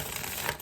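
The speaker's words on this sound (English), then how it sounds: "All right, one more shuffle." A brief burst of close, fast card riffling from a tarot deck, dense and even, with no voices.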